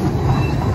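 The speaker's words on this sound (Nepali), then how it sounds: "ट्रेन यहाँ कुदिरहेछ" A train runs through downtown Chicago, a loud, close rumble of rails with a faint metallic squeal, heard only for a brief moment.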